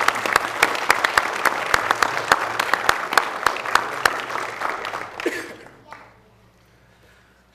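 A room of attendees at a Cabarrus County Board of Commissioners meeting applauds with dense, lively clapping that continues for about five seconds, then tapers quickly into near quiet.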